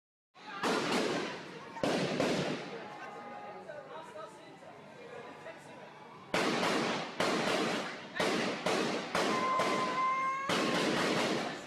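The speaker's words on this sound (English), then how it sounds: "big gunfire going on" Bursts of loud cracking gunfire go off in rapid clusters during taxi violence in KwaZulu-Natal, South Africa, some shots close together, while voices talk and shout in the background.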